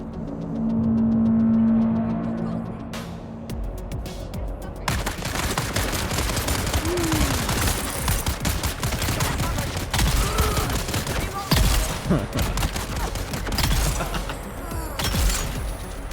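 Shotgun blasts in the Dune video game boom in a rapid burst of repeated shots after a quiet start, mixed with vehicle engine noise and a brief voice.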